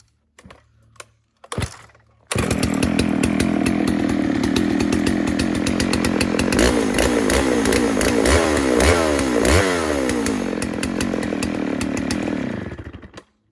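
A Dolmar 152 chainsaw, just back from an ignition repair, starts after a couple of short pulls and then runs loud and close for about eleven seconds, revving up and down with a rough, rattling two-stroke buzz before cutting off.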